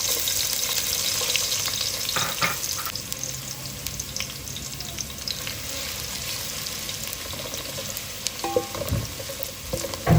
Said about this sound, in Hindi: ऑयल अच्छे से हमें गरम करना है, उसके बाद हम करेंगे ऑनियन को फ्राई